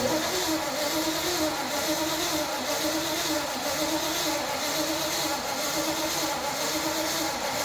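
A Ford engine cranks over steadily for oil pressure, a loud continuous mechanical churn with a faint rhythmic pulsing throughout, close by and without talk.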